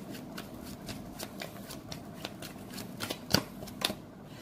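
Tarot cards are shuffled by hand before a single card is drawn, giving quiet repeated riffling flicks at an uneven rhythm, with a couple of sharper snaps near the end and no voice.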